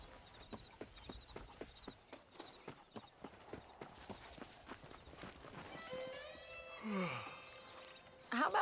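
Horse hooves clip-clopping at a steady walking rhythm in the video game Red Dead Redemption, crisp regular beats close by, fading as a voice speaks near the end.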